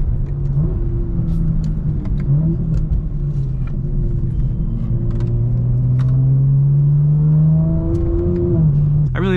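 A BMW car revs and accelerates through rising, sweeping engine tones that climb and settle, loud and close, with a steady rumble underneath throughout.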